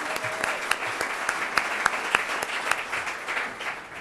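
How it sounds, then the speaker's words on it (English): Audience applause marking a ten-year anniversary of a Columbus online publication at a panel event, a steady wash of clapping from a crowd with a few sharper claps standing out, filling the whole stretch with no talking over it. "How about a round of applause for a 10-year anniversary?"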